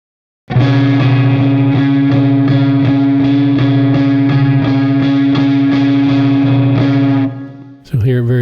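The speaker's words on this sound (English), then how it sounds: "And then here's random." A Vongon Ultrasheer pedal in random modulation mode colours a sustained, thick chord; the tone wavers with irregular shifts before cutting off abruptly near the end.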